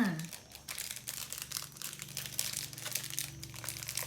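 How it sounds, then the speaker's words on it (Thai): Thin plastic wrapping around the heat pouch of a spicy instant noodle package is torn and crinkled close up, producing quiet, irregular crackling rustles throughout. "ฉีกซองพลาสติก ที่หุ้มถุงร้อน"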